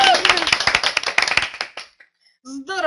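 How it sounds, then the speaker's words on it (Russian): Applause at an anniversary celebration show, a burst of hand clapping that fades out after about two seconds, followed by a brief voice. "когда такие громадные-громадные аплодисменты"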